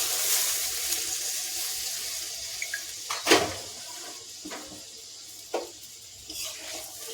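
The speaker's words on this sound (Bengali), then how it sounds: "এবার আমি এর মধ্যে জল দিয়ে দেবো" Water poured into a pan of rui fish curry with mustard and poppy seed after the oil separates, a steady near rush of liquid with a light sizzle and a few soft knocks.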